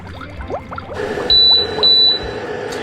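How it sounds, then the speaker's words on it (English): Two short electronic beeps from an appliance sound in quick succession over faint kitchen clatter and background noise. "the double beep means it is definitely done"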